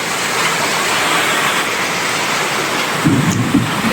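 A nighttime rainstorm pours down in a loud, unbroken wash of falling water, and near the end a low roll of thunder swells up beneath it. No one speaks.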